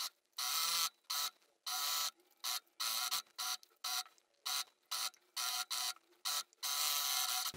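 A sewing machine stitches the side seam of a kimono in a series of loud, close bursts of whirring motor, separated by short pauses. No one speaks.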